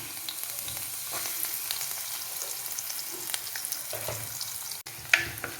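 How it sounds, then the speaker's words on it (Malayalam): Ginger and garlic frying in hot oil for a Malayalam-style fish curry, a steady close sizzle with faint stirring scrapes and a sharp utensil clink near the end. "ഇനി നമുക്ക് ഇഞ്ചിയും വെളുത്തുള്ളിയും ഇട്ട് കൊടുക്കാം."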